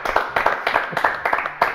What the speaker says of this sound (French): Numéro 1, Stromae, on l'applaudit quand même,